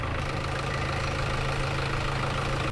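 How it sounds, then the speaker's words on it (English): A tractor engine runs steadily as it drives through floodwater from severe weather, a loud, continuous low rumble close by with no voices. "they've used a tractor to get through the water"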